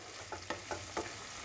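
Red chillies sautéing in a pan over a low flame, a steady sizzle broken by four quick stirring scrapes at an even rhythm, close and fairly quiet with no voices.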